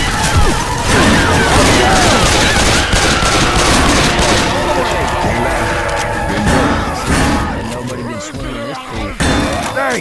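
Left 4 Dead 2 gunfire at the Dark Carnival: dense, continuous rapid shots and automatic bursts, loud and close, with shouting voices over the clatter that eases near the end.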